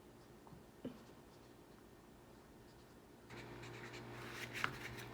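A pen writes on a post-it note close by during a snow experiment, with faint scratching, a small tap, and then a louder burst of scribbling near the end.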